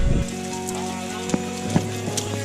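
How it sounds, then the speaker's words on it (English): Heavy summer rain pours steadily outdoors, a dense constant hiss with a few louder drops and splashes standing out close by. "It's absolutely pouring out here."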